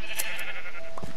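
Sheep bleating in the video game Minecraft, a single loud wavering bleat close up, followed by a short softer sound at the end, no talking.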